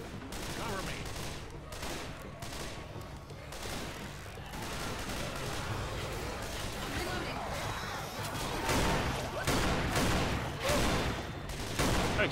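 Explosive ammo gunfire in Left 4 Dead 2, heavy bursts of shots with booming impacts that repeat steadily across the stretch and grow denser toward the end, mixed with a speaking voice and game noise.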